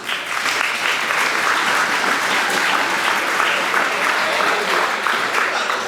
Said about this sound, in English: I think this whole group deserves another big round of applause